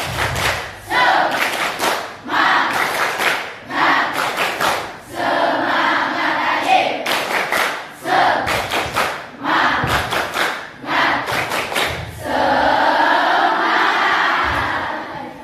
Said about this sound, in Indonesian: Latihan saya tepuk semangat